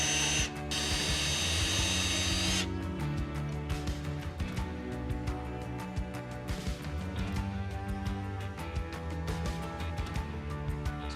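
A drill bores pilot holes for hinge screws in a wooden interior door slab, producing a steady motor whine that shifts in pitch, close and alone with no talking.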